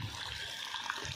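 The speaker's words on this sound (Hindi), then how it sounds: "ये देखिए गाइस पर नाला पानी फेंक रहे हैं, और देखिए कितना पानी गिर रहा है" Rainwater gushes steadily from a drain outlet during a heavy, very cold downpour, a continuous close splashing rush with no voices.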